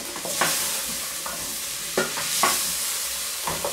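Onions browning in a pan while being turned, a continuous sizzle punctuated by several scraping stirs of a utensil at irregular intervals, close by and moderately quiet.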